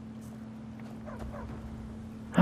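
A dog in the Skyrim video game gives a few soft whimpering yips and short barks in a quiet village scene over a steady low hum, with a brief louder burst at the end.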